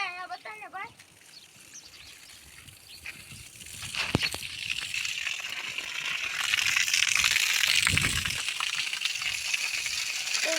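Water poured into a dug pit outdoors, a rushing, splashing wash that swells louder in the second half while people talk nearby.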